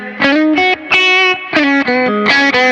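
Twangy, traditional Telecaster tone from a Fender Richie Kotzen Telecaster: a run of loud, bright strummed chords in quick rhythmic bursts, played alone without any voices.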